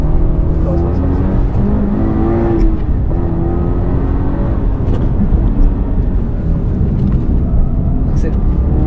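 A car engine revs hard on a race circuit, a loud, continuous roar with rising and falling engine pitch that fills the whole stretch, while an instructor and driver talk over it in the cabin.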